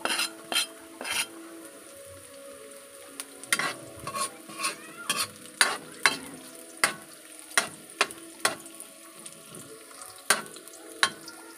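Onion sautéing in a pan for sinigang, with a spoon stirring and clacking against the metal about once a second over a steady close sizzle. No one talks.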